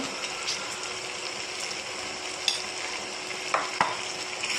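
Onion masala stirred and fried in a pan for a rice and fish meal, a steady soft sizzle with a few sharp scraping clicks of the spoon, close and alone.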